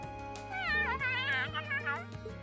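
A cat meows in the video game Trails of Cold Steel, an odd warbling call with rising and falling pitch that lasts a couple of seconds over steady game music.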